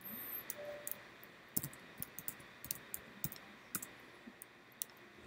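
A computer mouse clicks on a logout button and then through a popup, sharp light clicks in an uneven series against quiet room tone.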